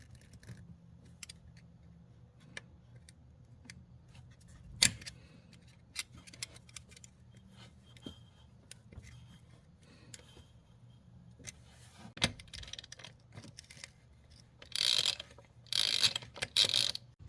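Ratchet wrench turning a 22mm nut on a 2010 Volkswagen Jetta, faint scattered clicks and mechanical ticks against a quiet background, with a louder burst of rapid ratcheting toward the end.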